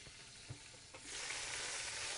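Food frying in hot pans on a kitchen stove, a soft hiss with a couple of light clinks that swells into a steady, louder sizzle partway through, no voices.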